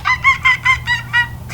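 A person's voice imitates a monkey call while making a monkey craft: six rhythmic, rising whooping hoots, loud and close, delivered in a steady bouncing pattern.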